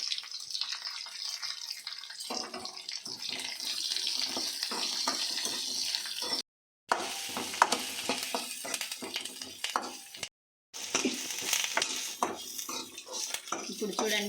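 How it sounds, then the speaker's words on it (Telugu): Kitchen sounds while dried red chillies, green chillies, curry leaves and onions are fried for spiced buttermilk: a pan clatters, a spoon clinks and stirs, water runs from a tap, and a faint sizzle sits underneath. Two brief silent gaps break the sound. "ఇప్పుడు 2 ఒట్టిమిరపకాయలు, పచ్చిమిరపకాయలు 2, కరివేపాకు, ఎర్రగడ్డలు వేసుకొని దోరగా వేయించుకోవాలి."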